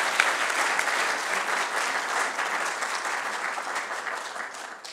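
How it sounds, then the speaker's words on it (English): Sustained applause from a lecture audience honoring a speaker at an economics oration, a dense, even roar of many hands clapping that holds steady and eases slightly toward the end. "can we have one more round of applause"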